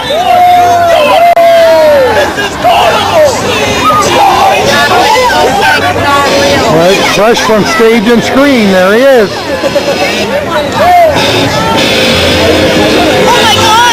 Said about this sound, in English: A cacophony of sounds, music, laughter, cheering.